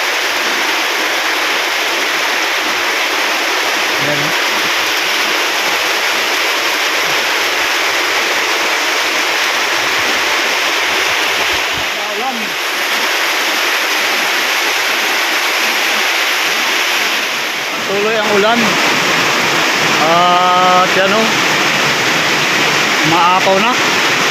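Steady broadband rush of floodwater flowing from a river, loud and continuous throughout, with a few brief voices breaking in near the end.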